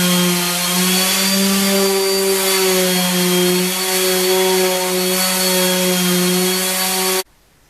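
A steady, loud tonal whine of a powered sander on wood runs continuously for several seconds, then cuts off abruptly.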